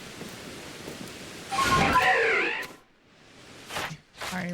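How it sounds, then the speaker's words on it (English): A thunderclap rumbles through a video-game thunderstorm in Pokémon Legends: Arceus, with a rush of rain, fading before short bright game effects. "Oh, it's thundering right now."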